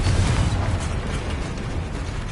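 Confringo fire spell blasts in the game Hogwarts Legacy, loud continuous bursts and booming pops piling up without a break.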